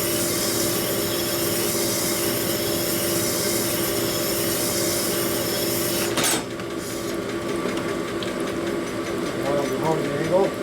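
A steady, abrasive grinding drone as a hone works the cylinder bore of a 1957 Harley-Davidson panhead engine. It runs loud and unbroken, then shifts to a lighter rubbing texture partway through.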